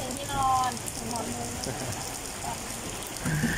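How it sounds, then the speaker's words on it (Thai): Heavy rain pours steadily outside a roadside coffee stall, a constant broadband hiss of drops on surfaces, with a person talking and faint clinks over it. "ฝนตกแรง"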